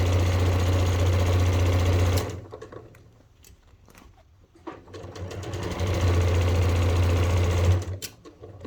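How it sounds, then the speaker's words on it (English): Domestic sewing machine stitching the fabric of a bucket hat, with a steady loud motor whir, a short pause of softer handling noise in the middle, then another sustained run of stitching. "So now I start from here, backstitch, making sure you backstitch that beginning and end."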